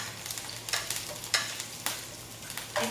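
Garlic frying in a pan for a Filipino tilapia dish, a steady close sizzle broken by repeated stirring scrapes at a fairly regular pace.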